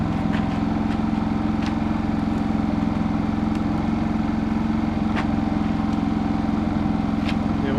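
A Craftsman portable generator made by Generac idles in a steady, continuous mechanical drone close by, with faint ticks and clicks scattered over the running engine and no talking.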